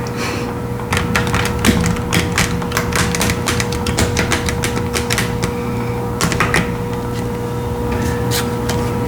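A deck of tarot cards with metallic silver edges being shuffled by hand, giving a close, steady run of quick crisp riffling clicks that briefly pauses midway, with no talking.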